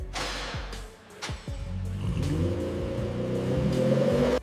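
A Lamborghini Veneno V12 engine revs in sharp bursts, then settles into a rising, throaty roar that builds steadily, loud and close.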